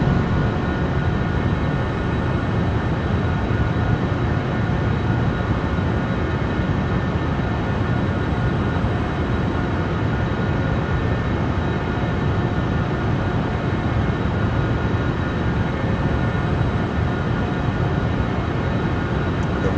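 Jet engines of a Citation Sovereign+ in a flight simulator during climb-out, a loud, unbroken roaring hum with a faint high whine held steady throughout, no voices.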